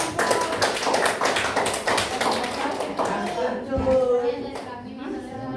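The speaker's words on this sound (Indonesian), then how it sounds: "Tepuk tangan dulu buat kelompok." A classroom of students claps for a student group, a burst of dense, close hand clapping that gradually thins out, with children's voices chattering underneath and toward the end.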